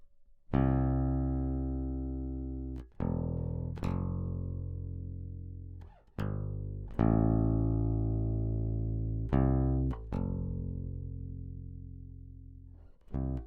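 Single low plucked bass guitar notes ring out one after another, each held for a second or two and slowly decaying before the next, played alone.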